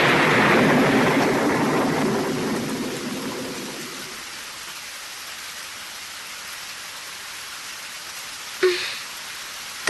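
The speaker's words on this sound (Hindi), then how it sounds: "काफी तेज बारिश हो रही है।" Heavy rain in an animated show pours loudly at first, then fades to a quieter steady hiss, with a brief sharp sound near the end.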